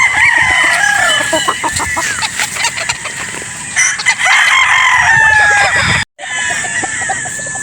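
Close, loud crowing and clucking from a game-farm rooster in Batangas, Philippines, repeated over several seconds with a short gap near the end.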